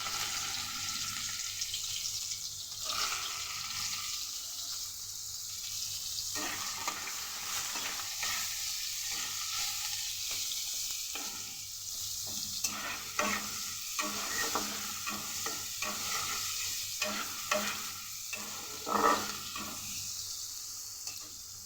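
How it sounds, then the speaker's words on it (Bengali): Chopped onion fries with whole spices (cardamom, clove, cinnamon) in a pan, a soft continuous sizzle punctuated by repeated scraping and tapping of a stirring utensil, moderately close, no speech. "দিয়ে পেঁয়াজটাকে ভেজে নেব।"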